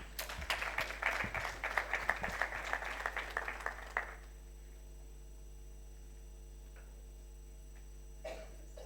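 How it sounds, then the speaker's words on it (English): Audience at a migration and border security colloquium breaks into applause, a dense burst of clapping lasting about four seconds before cutting off to a quiet room with steady mains hum and a faint cough near the end. "I think you all deserve a round of applause."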